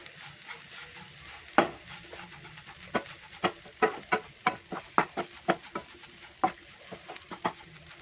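A small piece of tamarind is roasted in a pan with beetroot chutney ingredients, with sharp irregular scrapes and taps of stirring over a faint sizzle, and birds chirping in the background.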